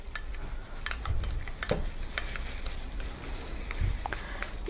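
A utensil stirs egg yolk in a bowl with soft scraping and light, irregular taps against the side, close and quiet over a faint background hiss.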